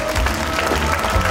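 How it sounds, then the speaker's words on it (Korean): An audience applauds a visiting artist from Vietnam at a biennale opening ceremony in a cultural center in Gimhae, a short burst of clapping over a low hum. "박수 부탁드립니다"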